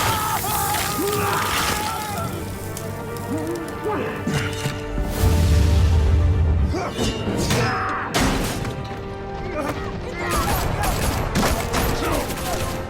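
Gunfire and crashing impacts in the Batman Telltale video game, with loud bursts, smashes and thuds mixed with music and game sounds throughout, heard close and dense.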